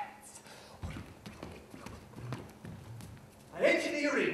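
Horse hooves clip-clop in a show jumping round, a series of irregular thuds at close range, with a voice speaking over them and a louder burst at the end.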